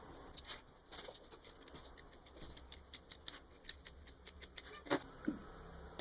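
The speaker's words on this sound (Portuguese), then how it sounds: "aqui eu já vou pegar e vou cortar um pouquinho desse excesso." Scissors snip away excess felt fabric in a quiet room, with a series of crisp, close cuts that come faster toward the end.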